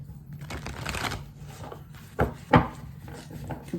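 Rider-Waite-Smith tarot cards being shuffled, a soft continuous riffling and rubbing of card stock close by, with two sharper taps near the end as the deck is squared.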